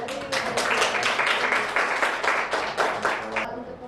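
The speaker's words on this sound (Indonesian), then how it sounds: "Kita beri tepuk tangan." A room full of people clapping steadily for a few seconds, fairly close and dense, tapering off near the end.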